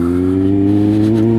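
A 2008 Kawasaki Z1000 motorcycle fitted with a Danmoto Carbon GP exhaust idles loudly and close, a deep steady engine drone with strong low harmonics throughout.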